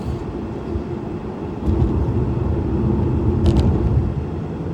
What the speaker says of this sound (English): Oh boy, there comes traffic.